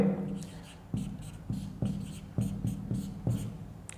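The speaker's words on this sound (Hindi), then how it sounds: "तो अब मैं लिखता हूँ यहाँ पे" A hand writes on a board during a chemistry lesson, producing close, rhythmic scratchy strokes with regular taps of the writing tool, about two to three per second, with faint speech in the background.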